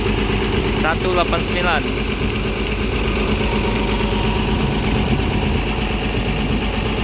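Bus engines idle at a terminal in Padang Panjang during pre-departure vehicle checks, a steady low rumble running throughout while a person talks over it.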